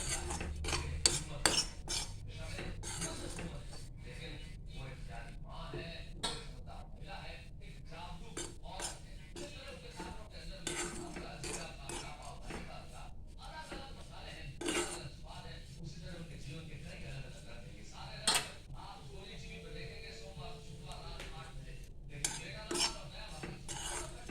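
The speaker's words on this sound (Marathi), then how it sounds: "असंच भाजून घेऊया गॅस कमी आहे एकदम बारीक गॅसवर भाजून घेतोय आपण" Dried fish (sukat) dry-roasted in a pan over a very low gas flame, with repeated scraping, stirring and light metal clinks of a utensil against the pan throughout, close and fairly quiet.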